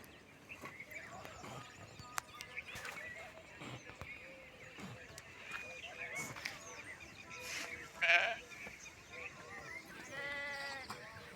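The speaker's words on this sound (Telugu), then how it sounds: "చూడండి ఫ్రెండ్స్ ఎక్కువ గొర్రెలు ఉన్నాయి దీంట్లో" Sheep bleat repeatedly at close and middle distance, some calls loud and wavering, over a low murmur of voices and shuffling, from a flock in a village field.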